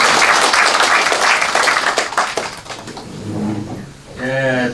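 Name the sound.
audience applause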